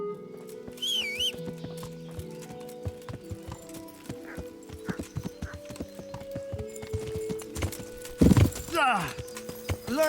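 Horse hooves clip-clop in the medieval video game Kingdom Come: Deliverance, a steady close rhythm of hoofbeats with a horse's whinny and neigh near the end, over game music and a talking voice.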